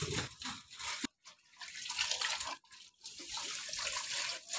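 Water splashing and running as laundry with detergent still in it is rinsed again, in loud gushing bursts broken by a couple of brief pauses.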